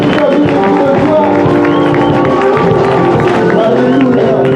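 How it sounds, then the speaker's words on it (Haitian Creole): A church congregation at a Mennonite spiritual concert cheering with joy, a loud sustained crowd roar of voices and shouts blended with music throughout. "Tu peux acclamer de joie."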